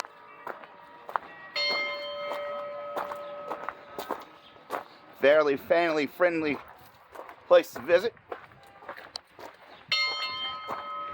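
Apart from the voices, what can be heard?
steam locomotive bell ringing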